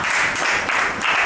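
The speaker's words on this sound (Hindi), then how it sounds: "तो हम उनके लिए जोरदार तालियां चाहते हैं, बुलाना चाहते हैं मिस संगीता मैम को" A crowd welcomes Sangeeta Ma'am with loud applause at a franchise launch event near Ayodhya. The clapping is a steady, dense wash at close range, unbroken through the short stretch.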